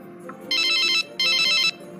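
A telephone ringtone sounds in two loud, steady electronic bursts, each about half a second long, with a short gap between them, heard on the line while a call to a mother is being placed.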